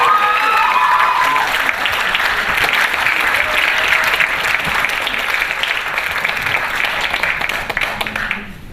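An audience at a hairdressing lecture event gives sustained applause to welcome a hair salon director to the stage, a loud dense wash of clapping that holds steady for several seconds before tapering off at the end.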